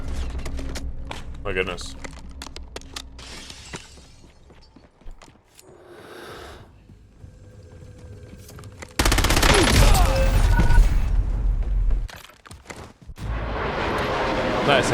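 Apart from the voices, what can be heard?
gunfire in the video game Call of Duty Warzone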